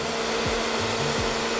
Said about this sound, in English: And then it says to blow dry your lashes